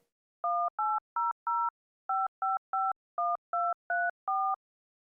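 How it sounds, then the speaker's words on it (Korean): Telephone keypad tones from dialing an inn's number, a quick sequence of about eleven clean, evenly spaced DTMF beeps in two bursts, faint and isolated against silence. "수화기를 들고 여관의 전화번호를 눌렀다."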